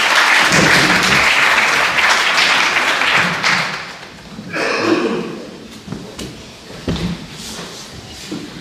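Dense applause from a seated audience at a poetry gathering and book launch welcomes a guest speaker to the stage; loud and steady for several seconds, then thinning into scattered claps.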